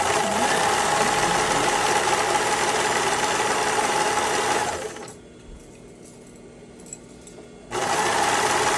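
A sewing machine stitching a skirt runs in a fast, steady whir for about five seconds, stops, then starts up again near the end.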